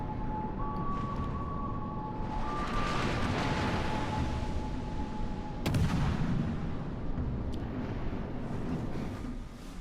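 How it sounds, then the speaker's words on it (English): Main guns of the St. Louis cruiser firing in the World of Warships: Legends naval game, a sustained run of heavy booming blasts with a sharp crack near the six-second mark, over constant rumbling battle noise. "Oh, yep, the St. Louis is firing."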